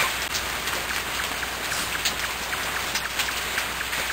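Rain sound effect in a Yume Nikki fan game, glitching, a dense steady hiss of falling rain on a surface with scattered drop ticks, constant and even throughout, with no talk.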